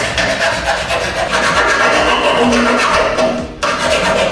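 Continuous scraping and rasping strokes of sanding and filing on a metal winch mount for a 2018 GMC Sierra, close and fairly loud, with a brief pause near the end.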